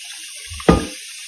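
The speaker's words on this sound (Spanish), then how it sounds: "le paso agua fría porque si no me va a calentar" Cold water from a kitchen tap splashes over fish being rinsed for ceviche in a short, close burst of running water, with a voice speaking briefly nearby.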